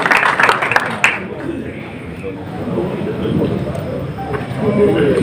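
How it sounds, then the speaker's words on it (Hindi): A crowd of traders at a welcome gathering bursts into loud, dense clapping that is sharp and close at first, then quickly fades into a murmur of voices and background noise. "जोरदार तालियों के साथ"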